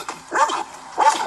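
A dog barks twice outdoors, short yappy woofs with a whiny edge, fairly close and loud, separated by a brief pause.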